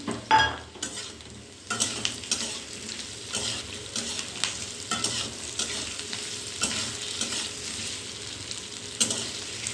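Onions sizzle steadily in a hot pan while a spatula stirs them, making repeated scraping and clinking sounds over a continuous crackling fry, heard close by with no talking.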